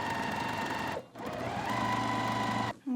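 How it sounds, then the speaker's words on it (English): Close, steady whir of a sewing machine stitching fabric pieces corner to corner, pausing briefly twice. "we're going to sew from corner to corner, going from the outside into the inside."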